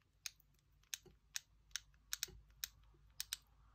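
Shimano Aldebaran BFS XG baitcasting fishing reel clicking, a series of about ten sharp, crisp, separate clicks at irregular intervals, close and quiet against a near-silent background.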